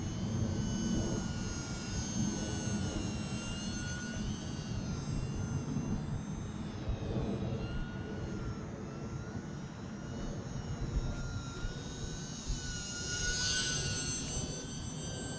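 An E-Flite UMX Cirrus SR22T, a small radio-controlled model airplane, flies continuously with a steady high-pitched electric motor whine that rises and falls slightly as it maneuvers, holding fairly close and loud with no talking.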